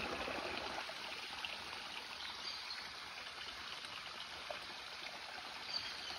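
Water stream flowing under a tree outdoors, a steady close trickle and hiss with no voices.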